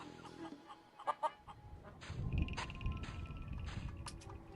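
A feral chicken in The Curse of Monkey Island clucks in a few sharp, close calls over a soft background bed, with brief chimes and tones around them.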